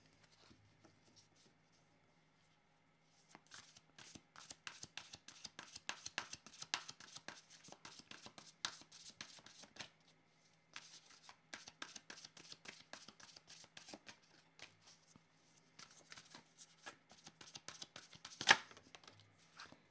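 A deck of cards is shuffled and handled up close, soft rapid riffling patters and light flicks repeating in several bursts, quiet with no talk.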